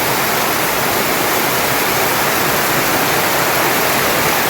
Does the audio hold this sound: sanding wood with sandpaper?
no